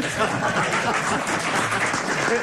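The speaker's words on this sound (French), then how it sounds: "C'est joli, vous pouvez l'applaudir." Studio audience applause on a French radio comedy panel show, a steady dense wash of clapping at moderate level that sustains throughout, with voices faintly mixed underneath.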